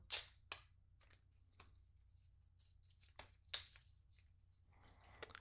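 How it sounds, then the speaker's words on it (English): Quiet crinkling and crisp rustles of thin plastic being peeled off a new Apple AirPods case, with a few sharper crackles standing out against near silence. "we do need to take off the plastic"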